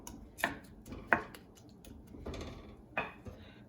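Onions and tomatoes stirred together in a tagine for a Moroccan Berber vegetable dish, heard as a few distinct knocks and scrapes of a utensil against the pot, spaced about a second apart and fairly quiet.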